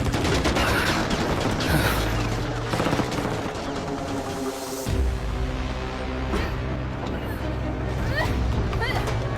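Gunfire bursts in a Bollywood action movie scene, a rapid fusillade of shots over a dense soundtrack with rumbling low effects, sustained throughout with a brief dip midway.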